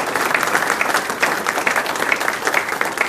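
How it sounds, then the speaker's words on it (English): A crowd at an annual community awards ceremony applauding steadily, dense clapping that stays loud and even throughout with no voices over it. "let's take one quick moment to give a round of applause to all this year's"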